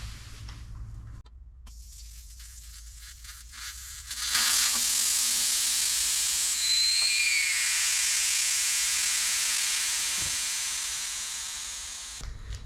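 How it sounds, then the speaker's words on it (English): Air hisses steadily out of a trailer tire through the open valve stem with the core pulled, a loud close rush that starts abruptly and holds strong before tapering slightly near the end. "let all the air out and pull out the valve core"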